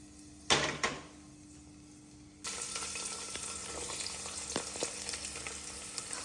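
Cloves, cardamom, peppercorns and a bay leaf hit hot oil with a couple of sharp splashes, then settle into a steady, close, loud sizzle that crackles on until the end.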